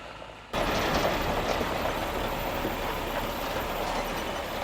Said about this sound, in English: All right, the feed truck has arrived.